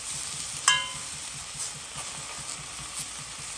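Tomatoes fry and get stirred in a pot for a Réunion-style rougail, giving a soft steady sizzle with a sharp scrape of the utensil near the start and faint stirring after.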